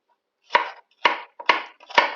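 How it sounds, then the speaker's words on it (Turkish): Dry onions being finely chopped with a knife on a board, four crisp close knife strikes in an even rhythm with short pauses between them. "Kuru soğanlarımızı yemeklik olarak minik minik doğruyoruz."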